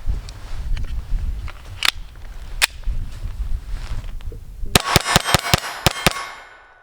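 Gunshots from a Sig P322 pistol, a few scattered loud cracks and then a rapid string of about eight sharp shots in quick succession, ringing out over steady outdoor background noise.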